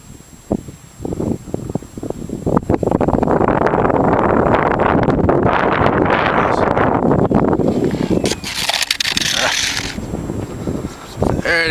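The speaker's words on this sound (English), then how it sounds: "A little windy today" Strong outdoor wind buffets the microphone in a long roaring gust that builds, holds, then drops away, with a model aircraft flying nearby and occasional crackly thumps, loud and close.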